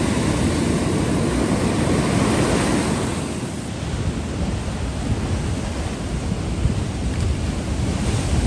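Ocean swell breaks steadily on a beach in a broad, continuous wash of surf, with wind buffeting the microphone throughout and no voices.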